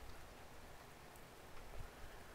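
Soft, steady rainfall in the survival video game The Infected patters continuously in the background, faint and even with no other sounds.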